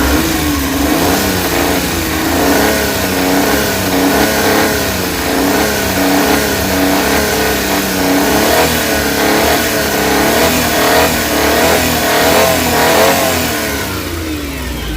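A Suzuki F6A fuel-injected engine with an ECM fault, low power and throttle delay revs up and down repeatedly, loud and close, its pitch rising and falling in rhythmic surges with no voices.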